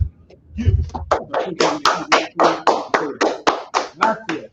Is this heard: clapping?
yes